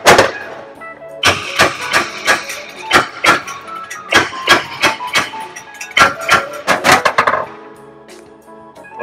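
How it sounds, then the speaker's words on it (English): A series of sharp metallic hammer strikes seating a Honda axle in a Toyota, in an uneven rhythm, some quick bursts of blows, fairly loud and close, with a quieter pause near the end. "let me just go ahead and hammer it down a little bit more"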